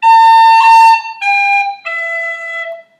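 A wind instrument, likely a tin whistle, plays a short tongued phrase of the tune Scatter The Mud, three clear sustained notes stepping downward, close and loud with no talking.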